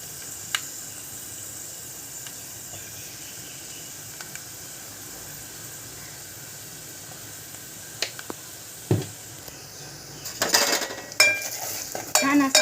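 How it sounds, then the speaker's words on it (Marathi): Spices, cumin, coriander powder and homemade masala are sautéed in a pan, giving a faint, steady sizzle with occasional spoon clinks and a burst of louder stirring and scraping near the end. "आपण जरा थोडं परतून घेऊया मसाला"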